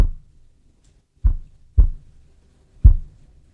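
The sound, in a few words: kick drum fundamental tone isolated with EQ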